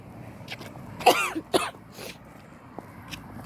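Two or three short, harsh coughs and throat clearings outdoors in mild weather, from someone with a birch pollen allergy. They are close and fairly loud, clustered together in the middle and standing out over a quiet background.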